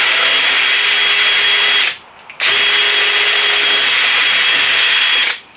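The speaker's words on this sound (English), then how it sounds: "you wanna press down on this as hard as you can, and you're gonna drill right into it" A power drill whines steadily at close range, drilling holes into a Verizon utility box cover, pauses briefly, then runs again for a few seconds before cutting off.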